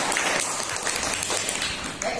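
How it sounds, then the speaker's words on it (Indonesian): A classroom audience at a micro-teaching session gives a short burst of applause, a dense patter of clapping for about two seconds at moderate loudness, with faint voices mixed in. "berikan aplaus yang banyak kepada teman kita"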